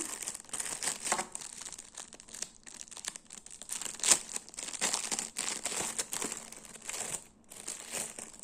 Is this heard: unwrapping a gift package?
yes